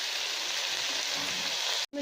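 Mustard greens for sarson ka saag sizzling in a pan: a steady, bright, even hiss that continues without pause, cutting out briefly just before the end.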